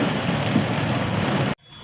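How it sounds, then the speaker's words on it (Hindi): Heavy monsoon rain pours down in Rishikesh, heard from inside a 2018 Tata Nano XM CNG car as a loud, dense, steady patter that cuts off sharply near the end. "आज मानसून का मौसम आ चुका है और बारिश बहुत तेज़ हो रही है।"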